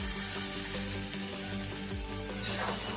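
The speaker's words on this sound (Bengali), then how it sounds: "সেদ্ধ করা মোচাগুলোকে এর মধ্যে আমি দিয়ে দিচ্ছি।" Boiled banana blossom drops into frying spices with a loud, continuous close sizzle, a dense crackling hiss laid over a low hum for the whole stretch.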